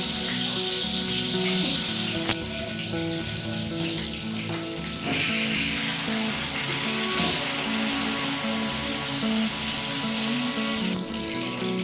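Pieces of aor fish sizzle and crackle steadily in hot oil in a pan, a continuous close frying hiss with occasional louder spatters, no voices.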